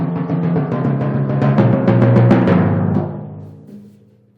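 Timpani played with right-hand-lead sticking, a quick run of booming strokes shifting down to a lower drum with slightly uneven motion, building and then ringing away into a long decay, no voices.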